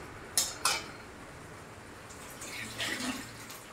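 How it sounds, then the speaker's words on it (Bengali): Mixed vegetables, starting with vegetable stalks, tipped one by one into a pan of cooked-down spices for a prawn and fish curry: two sharp metallic clatters early, then soft rustling and a brief sizzle, fairly faint and without talk. "এবার আমি একে একে সবকটা সবজি আমি এখানে ঢেলে দেব"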